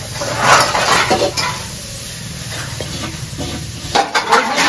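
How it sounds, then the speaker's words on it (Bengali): Soybean chunks lightly frying in a pan give a soft sizzle beneath repeated scraping and clinking of a spatula against the metal, close and fairly loud. "হালকা ভাজা হয়ে গেছে, হালকা ভেজে নিচ্ছি"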